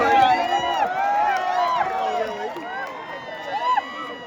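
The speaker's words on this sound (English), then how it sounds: "Please give big round of applause to Rajat." A crowd of people cheers, whoops and shouts loudly and continuously, welcoming a volunteer at an office emergency mock drill.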